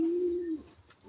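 A racing pigeon gives one close, steady low coo, about half a second long, then breaks off into a softer second call.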